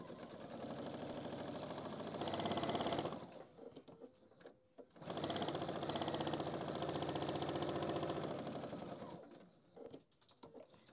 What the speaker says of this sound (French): Donc je couds pareil à 1 cm du bord.